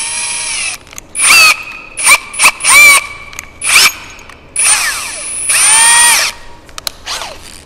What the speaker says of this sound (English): So now we're going to drill these 3 holes.